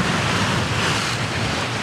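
Continuous roar of ocean waves and surf mixed with gusting wind, heard aboard a Leopard 45 cruising catamaran, loud and steady throughout.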